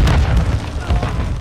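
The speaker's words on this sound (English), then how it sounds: "Throwing a stun grenade!" Stun grenade detonating in a Call of Duty battle, a heavy low boom that fills the short moment with rumbling, dense noise, with speech mixed in around it.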